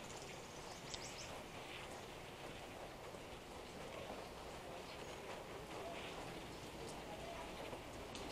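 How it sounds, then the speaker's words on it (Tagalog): Rain falling on a sunny day outdoors, a steady, even hiss of drops on surfaces lasting throughout, moderately loud and unbroken, with faint background sounds but no clear talking. "Maaraw siya pero umuulan."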